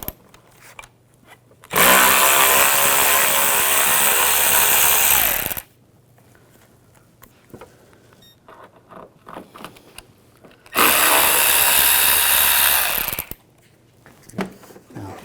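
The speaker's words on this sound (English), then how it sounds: "We're going to use a T25 socket. Take these screws out." A powered driver with a T25 socket removes bumper screws on a 2006-2010 BMW 550i, with two loud, steady buzzing runs of several seconds each and quiet handling noises between.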